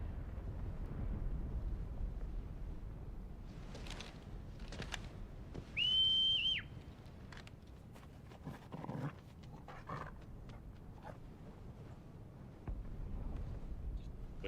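A character in the Final Fantasy 16 video game gives a single short, clear whistle to call a chocobo. It rises over game ambience and scattered background effects midway through.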